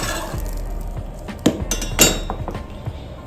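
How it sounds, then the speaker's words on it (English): Spoon clinking against a pan while lemon juice is stirred into a haddock piccata sauce, a few sharp metallic taps and scrapes over a low sizzle, close and moderately loud, no talking. "Okay, so here goes my lemon juice. Just going to give that a stir."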